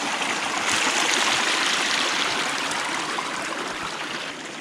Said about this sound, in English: I hear some significant flowing water.